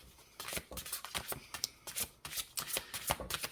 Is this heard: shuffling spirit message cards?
yes